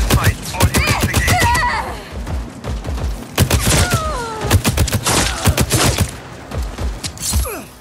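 Gunfire in the Just Cause 4 video game, with repeated sharp shots and bursts across the scene, heavy thuds mixed in, and voices speaking over the shooting.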